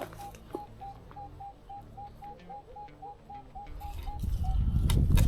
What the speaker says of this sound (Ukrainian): Черговий сигнальчик.